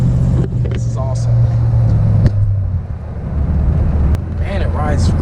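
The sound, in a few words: 1932 Ford hot rod car driving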